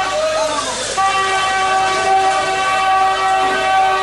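Vehicle horns honk repeatedly on a busy street, sustained tonal blasts overlapping almost continuously and fairly loud, with some voices faintly underneath.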